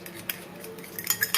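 Egg yolk, salt, bouillon and oil being mixed together in a bowl, with a few light clinks and scrapes of a utensil against the dish, soft and close, bunching up toward the end.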